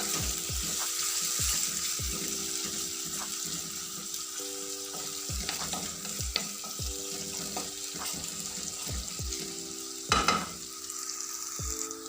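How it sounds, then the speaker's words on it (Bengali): Garlic sizzling in a hot pan, a continuous crackling fry with repeated scraping and stirring clicks, fairly close and steady, with one louder clatter late on. "এখন আমি রসুনটা ভাজবো"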